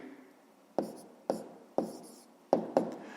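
Pen or chalk writing numbers by hand during a fifth-grade maths lesson: five sharp, separate strokes with short scratchy tails, close and clear over a quiet room.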